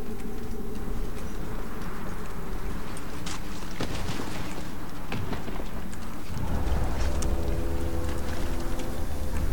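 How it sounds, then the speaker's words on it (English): Footsteps in the Shadow of Mordor video game, crunching in a steady patter through dense game ambience with rain-like hiss and a low rumble that swells near the end. "I hear footsteps, damn it."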